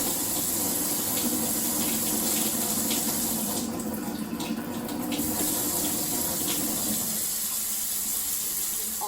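Water pours steadily from an Air Water Life alkaline ionizer machine, a constant close trickling rush that holds for several seconds and then thins toward the end.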